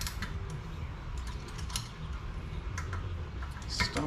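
A pass-through ratchet working on a bolt while lowering a BMW E30, giving soft repeated clicking and ratcheting over a steady background hum, close and fairly quiet.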